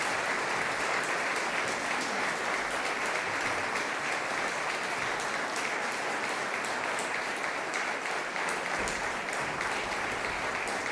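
Steady, even applause from an audience after a cavalry brigade fanfare band's performance, sustained and fairly distant, with no talk over it.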